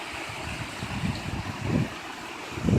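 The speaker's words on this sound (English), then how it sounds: "There's like a little waterfall under this bridge even." A small waterfall under a bridge at a mill, a constant rushing wash of falling water mixed with strong wind buffeting the microphone, with low rumbling gusts that swell and fade throughout.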